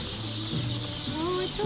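Polish chickens clucking at a hatchery, a busy run of short clucks and murmuring calls from several birds close by, with a little human voice mixed in.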